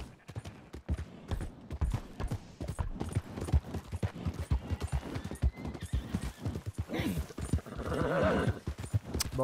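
Rapid, rhythmic horse hoofbeats in Red Dead Redemption 2 clatter steadily throughout, and the horse whinnies toward the end.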